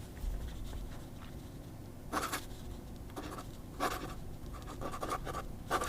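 A fine Osprey nib on an Ebonite Ranga fountain pen scratching across paper in short bursts of strokes separated by pauses, quiet and close, no voices.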